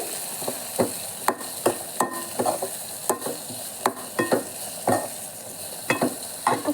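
Onions fry in a pan for a spinach and green gram dal, with a spoon scraping and stirring in repeated rhythmic strokes over a constant close sizzle; no one speaks.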